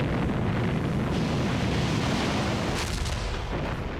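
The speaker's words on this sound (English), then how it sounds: "German artillery and machine guns opened fire." World War II German artillery and machine-gun fire against landing craft approaching a beach, a dense, continuous roar of blasts and rattling gunfire with wind-like rumble throughout, loud and steady with no speech.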